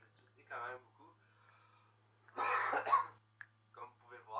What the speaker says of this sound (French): Je tousse quand même beaucoup.